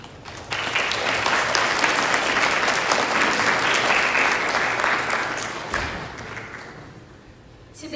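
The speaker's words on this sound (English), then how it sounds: "round of applause" An audience at the Hwarang 2026 gala breaks into a warm, sustained round of applause, a dense, even roar of many hands that holds steady for several seconds before slowly tapering off.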